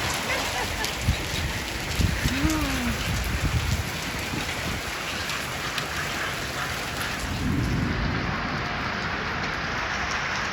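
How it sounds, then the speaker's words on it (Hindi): Heavy rain in a thunderstorm in Islamabad pours down steadily in a dense, continuous hiss, loud and close, with a faint rumble underneath. "बहुत तेज़ बारिश हो रही है"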